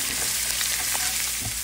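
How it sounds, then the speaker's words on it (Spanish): Jalapeño peppers fry in rendered bacon fat beside bacon-wrapped asparagus in a pan, making a loud, steady, close sizzle that continues alone without pause. "en la grasita que va soltando, ahí le vamos a poner los chilitos jalapeños"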